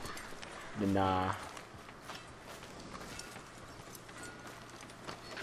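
Horse hooves clip-clop in Red Dead Redemption 2 in a town setting, a short, moderately loud burst of steps followed by quieter ambience, with a brief spoken remark.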